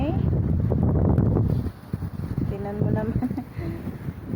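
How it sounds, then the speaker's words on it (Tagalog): Strong wind buffets the microphone with a loud rumbling roar, easing briefly as a person speaks over it. "Sobrang lakas talaga ng hangin"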